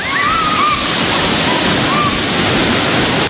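A waterfall roars with a dense, continuous rush of falling water at a highland spot in Maguindanao, with a few faint bird chirps above it.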